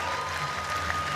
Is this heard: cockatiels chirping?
no